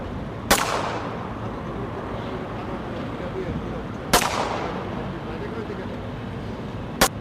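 Three sharp, loud sniper rifle shots in a video game, spaced several seconds apart, each ringing off with a short echoing tail over steady game ambience while someone talks.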